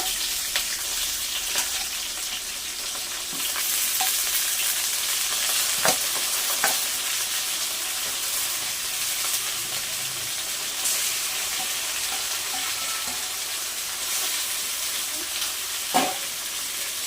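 Onions and chicken legs frying and being stirred in a pan, giving a steady close sizzle with scattered scraping clicks of the spoon throughout.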